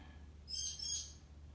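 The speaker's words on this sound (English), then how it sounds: "you can hear my parrot going off in the background." A single faint, high-pitched parrot call rising over a quiet background hum, lasting about half a second.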